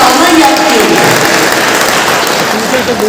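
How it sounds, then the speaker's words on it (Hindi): A crowd at a Constitution Day speech event in Abu Road, Rajasthan claps for a child, producing dense sustained applause that fades slightly over three seconds, with a speaker's voice over it. "एक बार उसके लिए ताली बजाइए"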